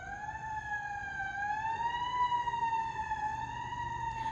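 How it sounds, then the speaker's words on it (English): A fire truck siren wails steadily and loudly throughout, its tone rising and falling slowly as the emergency vehicle rolls past, with low traffic rumble beneath. "the fire truck coming"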